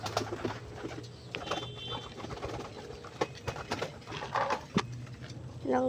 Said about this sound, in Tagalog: Guys, may lumilipad ngayon kalapati.